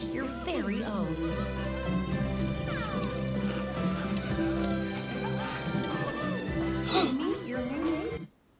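Horse sounds from a Disney Dreamlight Valley trailer, with hoofbeats and a whinny set against music and bright effects, loud and busy, with voices talking over it before it cuts off abruptly at the end.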